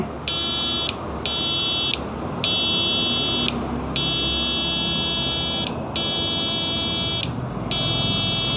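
A Thai-made inverter, switched on and running from a small 7 Ah battery, gives off a loud, high electronic buzz. The buzz cuts in and out in uneven stretches of about a second, with brief gaps and no talking.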